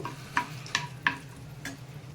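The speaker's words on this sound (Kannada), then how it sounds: "ಇಲ್ಲಿ ಈ ಥರ ಗೋಡಂಬಿ ನಮಗೆ ಕಲರ್ ಚೇಂಜ್ ಅವರಿಗೆ ಫ್ರೈ ಮಾಡ್ಕೊಂಡ್ರೆ ಸಾಕು" Cashews frying in a pan for apple halwa, with a soft low sizzle under four sharp, evenly spaced scraping stirs of a spoon against the pan, close and fairly quiet.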